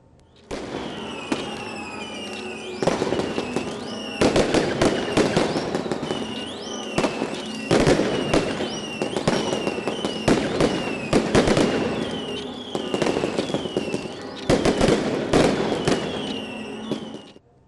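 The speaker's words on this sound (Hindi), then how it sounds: "आतिशबाजी के शानदार मुजाहिरे हुए" A New Year fireworks display bursts continuously, with crackling, popping and booming explosions layered over a whistling shriek of rising rockets, loud and dense for the whole stretch with no talking.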